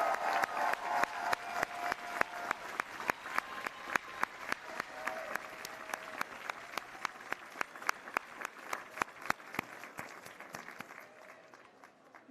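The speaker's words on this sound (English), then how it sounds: "ask everyone to give a loud applause for the graduating class of" Loud applause fills a commencement ceremony for a graduating dental school class, dense steady clapping from a large crowd that carries on throughout and thins slightly near the end.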